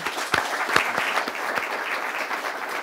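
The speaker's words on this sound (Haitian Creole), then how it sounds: "Je vais demander un gros bravo pour nous" Audience applause at a forum discussion on domestic violence, a short burst of clapping with a few louder individual claps early on, gradually settling into a steady patter.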